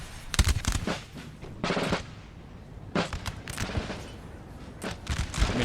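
Musket volleys in Napoleon Total War's Battle of Ettlingen (1796), dense crackling fusillades and booming reports in several bursts with rumbling battle noise between them.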